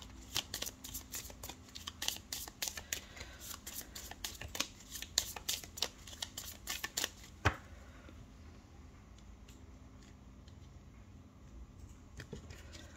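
A deck of tarot cards shuffled by hand, a rapid run of crisp riffling snaps for about seven seconds, then quieter scattered card handling, close and fairly soft.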